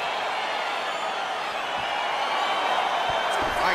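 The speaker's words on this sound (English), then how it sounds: "All right, crowd getting excited as this fight gets underway" A dense, steady crowd roar fills a fight arena in the video game EA Sports UFC 4 as a bout gets underway, with a slight swell toward the end.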